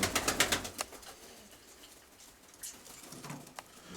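Pigeons held for a quick sale, with a cluster of sharp flutters and taps at the start, then quieter scattered rustling and soft coos close by.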